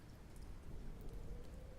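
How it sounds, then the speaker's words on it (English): Soft, steady rain sounds mixed with white noise hiss at low volume, a continuous wash of patter with no distinct drops standing out and no voices. "But I like having rain sounds to focus better. It's mixed with white noise."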